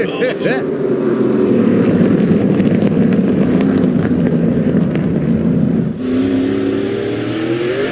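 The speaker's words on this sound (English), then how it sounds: "Love to see this side-by-side racing." Race cars in an SRX race at Lucas Oil Speedway roar past side by side, with loud, sustained engine drone and revving close by and a commentator talking throughout.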